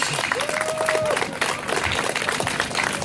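An audience claps in steady, dense applause at a live event, filling the whole stretch close and loud, with a faint voice underneath.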